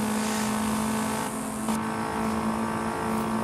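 A Fiat Abarth 131 rally car engine in a video game, revving high near the rev limiter with a steady, loud whine that barely dips, and no voices over it.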